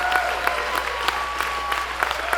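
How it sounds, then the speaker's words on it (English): Warm audience applause at an in-store concert at Amoeba Music in Hollywood, steady dense clapping from a crowd filling the whole stretch at moderate loudness. "Give them a warm Amoeba round of applause."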